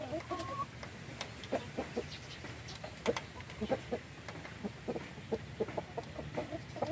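A rooster in a chicken coop, close by, clucks and makes short repeated calls in an irregular rhythm over steady farmyard background noise, with no talking.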